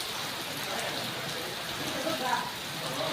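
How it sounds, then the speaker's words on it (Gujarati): Heavy rain pours as an even, close wash of hiss and patter, with no breaks across the few seconds. "બહુ જ પડે છે વરસાદ"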